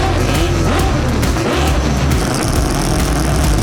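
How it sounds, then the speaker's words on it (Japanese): A Mazda 787B four-rotor race car engine idles and burbles with a rough, buzzing drone, loud and steady throughout with no voices. "4ローターのエンジンも十分に温まり、いよいよデモランのスタート位置に向け移動を開始します。"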